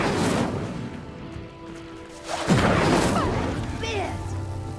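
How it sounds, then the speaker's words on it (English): Incendio fire spell igniting a pyre in the video game Hogwarts Legacy: a sudden whooshing burst of flame about halfway through, then a sustained crackling roar over soft in-game ambience. "The flames make the pyre sink."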